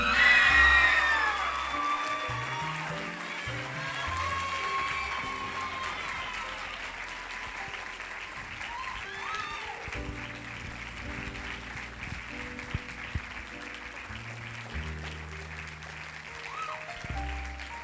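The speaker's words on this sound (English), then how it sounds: "Applaud our 2010 Queen, Molly Chittister." Crowd applause for the newly named 2010 queen at the Dale Fall Fest Queen Pageant, loud and sustained at first, then settling into steady clapping with scattered cheers and a few shouts from the audience.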